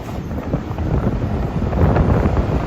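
Gusty wind roars loudly against the microphone, a dense low rumble that swells slightly toward the end, with no other sounds.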